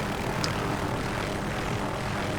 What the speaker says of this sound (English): Now this is a very light helicopter